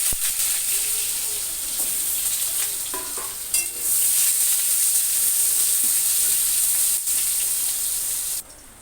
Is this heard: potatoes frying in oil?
yes